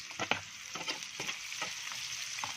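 Chopped garlic and pork frying in a pan, a bright continuous sizzle broken by irregular crackles and stirring scrapes, close and fairly loud with no talking.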